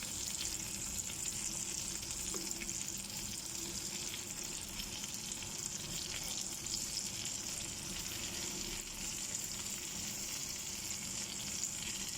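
Pompano fish frying in a pan of hot oil, a steady crackling sizzle that holds at moderate loudness for the full stretch with no voices.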